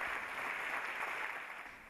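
Spectators at a taekwondo demonstration applaud, a steady wash of clapping heard at moderate distance that fades slightly toward the end.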